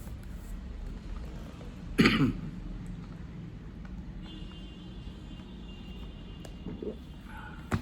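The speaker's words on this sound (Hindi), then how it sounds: "माफ कीजिएगा, थोड़ी सी खांसी सी आ रही है।" A single short cough or throat clear stands out once near the start, close and brief, over a low steady rumbling background with no talking.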